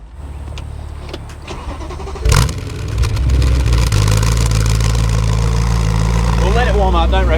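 A car engine cranks and catches with a sharp burst, then settles into a steady, close burbling idle while people chat nearby.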